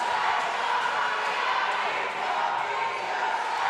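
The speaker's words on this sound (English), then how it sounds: "I don't know if you guys can hear the crowd on this live stream, but they are fired up." Live roller derby crowd shouting and roaring in a large indoor venue, a dense, steady wall of voices filling the space without letup, with a commentator talking over it.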